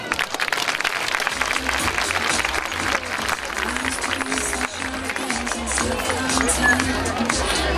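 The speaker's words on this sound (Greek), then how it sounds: "χαρίστε τους το πιο δυνατό σας χειροκρότημα" Steady applause from a large audience at a gymnastics exhibition fills the whole stretch, with crowd noise and background music running underneath.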